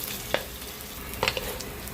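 Squid balls stir-fried in a pan for chopsuey, giving a steady close sizzle with a few sharp clicks from stirring.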